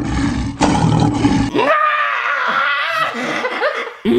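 A person voices a loud, drawn-out lion roar in imitation, a rough growling cry lasting a couple of seconds, with noisy laughter and chatter before it.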